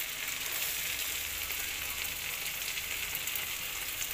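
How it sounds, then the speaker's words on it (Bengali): Garlic frying in oil in a pan after radhuni seeds, a steady close hiss and crackle that holds evenly throughout without talk. "রসুনটা একটু ভাজা ভাজা হয়ে গেলে"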